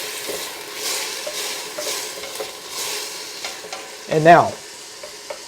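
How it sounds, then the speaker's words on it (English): Ground turkey sizzles and scrapes in a hot pan over high heat for a chili, with a steady frying hiss and a few stirring strokes, then a louder scrape near the end; a brief spoken phrase comes early. "let's give our turkey a stir"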